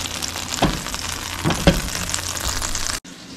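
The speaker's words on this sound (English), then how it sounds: "Throw about a half a stick of butter in there. We're gonna let that melt." Half a stick of butter sizzling as it melts in a cast iron skillet, a steady close frying hiss with a few soft taps and clunks, cut off abruptly near the end.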